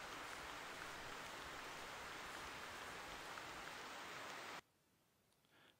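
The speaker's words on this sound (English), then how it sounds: "the rain is really loud" Heavy rain in the hunting video game theHunter Classic pours as a dense, loud, steady hiss for over four seconds, then cuts abruptly to a much quieter background.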